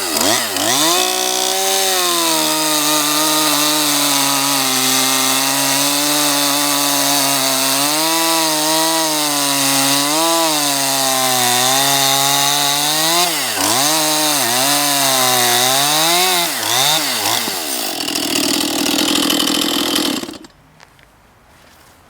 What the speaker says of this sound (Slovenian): pri izvajanju ubodnega reza moramo biti previdni in držati motorno žago dovolj čvrsto, vendar ne krčevito, tako da je rez lahko gladek